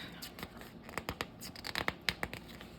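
Paper being cut and torn by hand for a craft journal, a quiet series of short rasping snips and rips, irregular and close, with light crinkling between.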